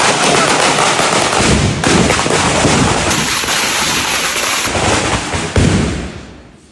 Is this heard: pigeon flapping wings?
no